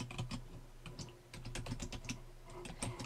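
Fingers typing an email address on a computer keyboard, a close run of crisp, irregular key clicks with short gaps and no talking.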